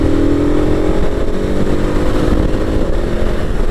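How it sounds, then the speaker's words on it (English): A 2021 KTM Super Adventure's LC8 engine pulls steadily in fifth gear at around 4,000 rpm, a loud, continuous close-up drone with a dense low rumble and no talking. "This LC8 engine has got to be one of the most versatile engines out there."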